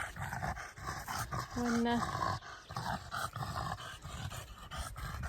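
A dog named Kobe growls and grumbles at other dogs passing on his walking route, a low rumbling snarl with occasional whines, close by and continuous, mixed with outdoor noise and brief talk.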